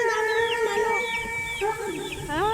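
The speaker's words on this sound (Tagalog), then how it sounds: "Oh, ang daming pato." Ducks on a farm quack and squawk in a busy, overlapping chorus, close and lively, with chickens among them and a voice speaking underneath.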